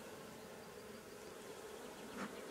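Honey bees hum steadily around an open hive during a honey harvest, a dense, even drone close by with one brief louder swell near the end; no one speaks.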